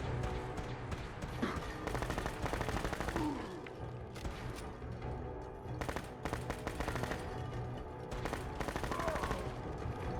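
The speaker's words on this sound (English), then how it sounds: "What kind of gun did he have? Focused fiery laser rifle." Rapid bursts of focused fiery laser rifle fire in Fallout 4, dense and continuous over loud combat noise, with shots and impacts overlapping throughout.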